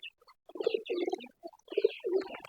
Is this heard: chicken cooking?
no